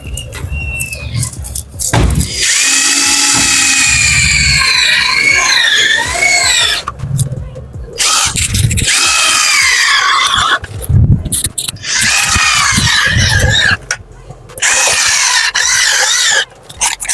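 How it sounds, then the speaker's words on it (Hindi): A router with a half-inch bit cutting grooves into a profile frame for a glass kitchen cabinet door gives a loud, shrill whine that shifts in pitch. The cutting comes in long bursts broken by brief pauses. "इसमें हमने आधा इंच की बिट से गुर्जिंग करके फिर हम इसमें स्क्रू कसने का काम स्टार्ट करेंगे"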